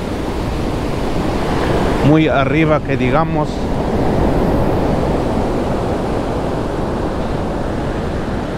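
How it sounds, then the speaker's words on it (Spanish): Ocean surf rolls onto the beach at Oxnard, California, a constant broad wash of breaking waves; someone speaks briefly in Spanish over it partway through. "Pero estas olas, cuando más crecen, estas olas se suben hasta toda esta parte de arriba"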